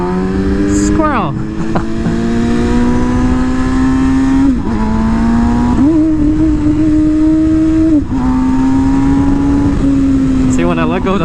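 An MV Agusta motorcycle engine revs loud and close, pitch climbing and holding, then dropping sharply as the throttle snaps shut, before rising again in several repeated surges.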